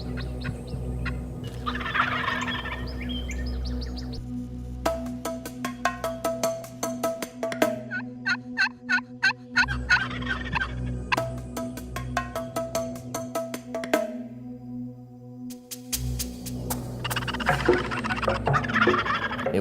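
Wild turkeys gobble loudly in bursts during a spring turkey hunt, the rapid rattling calls repeating close by and overlapping one another, with short quiet gaps between volleys.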